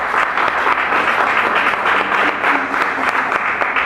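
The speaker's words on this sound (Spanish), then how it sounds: "Podemos darle un fuerte aplauso al Señor" A church congregation applauds steadily, a dense wash of clapping that holds at an even level throughout.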